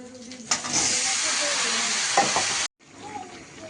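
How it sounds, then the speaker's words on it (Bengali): Sliced ridge gourd is tipped into hot oil with fried onion, nigella seeds and green chilies, setting off a sudden loud, dense sizzle that roars steadily, then cuts off abruptly and leaves a softer frying hiss. "কালো জিরে পেঁয়াজ আর চেরা কাঁচা না সেগুলো ভাজা হয়ে গেছে এবার দিয়ে দেবো ঝিঁয়েটা"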